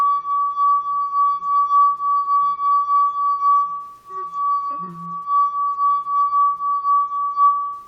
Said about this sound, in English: Just gently rub your finger across the rim, and you can hear.